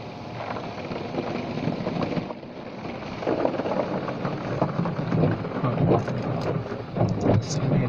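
Automatic car wash machinery runs over a car with the driver inside, a steady broadband wash of spraying water and brushing that swells and churns throughout, with occasional louder surges.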